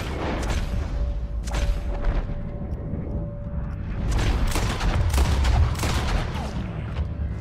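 Heavy gunfire in a Red Dead Redemption 2 shootout, with dense overlapping bursts and booming shots that build into a sustained, loud volley near the listener.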